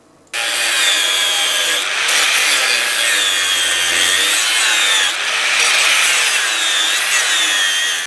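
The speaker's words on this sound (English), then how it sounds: "You might be wondering why I'm cutting these with an angle grinder instead of my plasma cutter" Angle grinder cutting pieces of metal, a loud, harsh high-pitched grinding whine that starts abruptly and holds steadily, pitch wavering slightly as the disc bites, with brief dips between passes.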